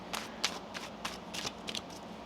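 Tarot cards riffled and shuffled by hand in a deck, a run of about six quick papery bursts at an irregular rhythm, close and moderately quiet with no voices.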